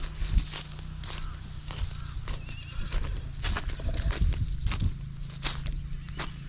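Horse sounds close by: hooves thudding and stepping at an uneven pace with occasional snorts, over a steady low hum and no talking.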